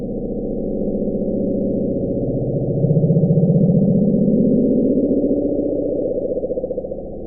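Bloop, the unexplained loud underwater sound recorded by NOAA in 1997: a continuous low rumbling drone with a slow rising sweep in the middle, steady and unbroken for several seconds, with no voices.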